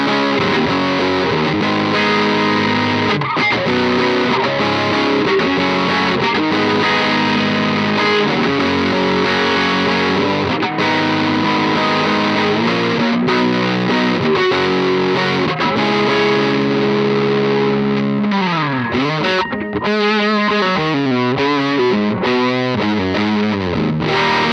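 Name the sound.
electric guitar through Pigtronix Disnortion pedal, mid-push distortion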